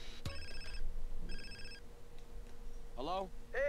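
Telephone ringing in GTA: San Andreas, two short electronic ring bursts with a pause between them, fairly faint, and a brief voice sound near the end.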